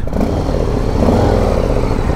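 A Harley-Davidson Street Bob motorcycle idles with its exhaust flap closed, a steady, deep, muffled, throaty rumble, fairly loud and continuous throughout.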